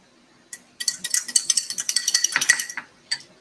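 Sweet chili sauce ingredients mixed in a bowl, a quick run of close clinking and scraping utensil strokes against the dish, loud and rhythmic, with no talk.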